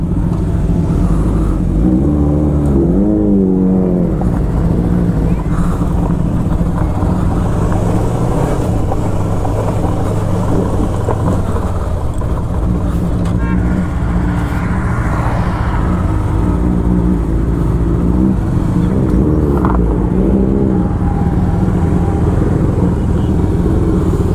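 Several motorbikes or cars ride on a road from Mumbai toward Malshej Ghat, with a steady, loud engine drone and passing rumble running throughout and no clear voices.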